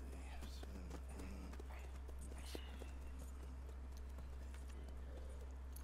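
Horse hooves clip-clop at a walk in the Red Dead Redemption 2 video game, a steady, fairly faint rhythm over a constant low hum with scattered background noise.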